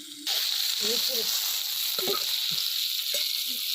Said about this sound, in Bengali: কপি লাল লাল করে ভাজা হয়ে গেছে দেখো কত সুন্দর তুলে নেব